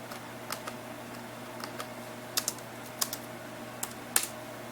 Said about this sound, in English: So if we type in no OS